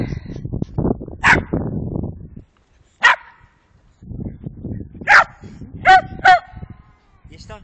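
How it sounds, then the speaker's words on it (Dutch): A Shetland Sheepdog barks in short, sharp bursts, some yelping, alternating with a person talking nearby; the barks come singly and in a quick pair. "Blaffende shelty?"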